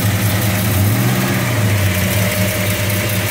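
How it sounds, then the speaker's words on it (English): The V8 of a 1968 Dodge Charger with an aftermarket carburetor, Edelbrock Performer intake and aftermarket wires idles steadily, loud and close, its low rumble carrying a light ticking from lifter noise on the right side. No one speaks. "A little bit of lifter noise on this right side."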